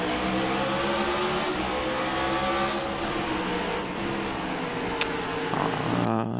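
NASCAR stock cars in the iRacing game at Martinsville Speedway roar loudly and steadily as one car spins out, the droning engines filling the clip and a brief higher squeal near the end.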